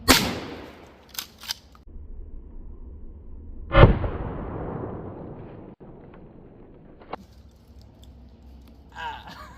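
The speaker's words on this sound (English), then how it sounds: "this is my first time shooting a shotgun after learning how to do it" A shotgun loaded with birdshot is fired at a drywall target outdoors, giving a loud close blast with a long decaying tail. A second heavy boom follows a few seconds later, with faint clicks and handling noise around them.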